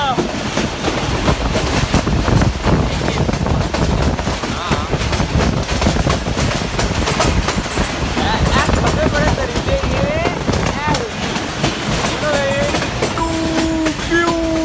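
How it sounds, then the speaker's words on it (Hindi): A train slowly pulls into a station, a steady rumble with clattering wheels and a couple of tonal horn or brake notes near the end, while people talk in the background. "अभी ट्रेन आ रही है लेकिन बहुत स्लो आ रही है"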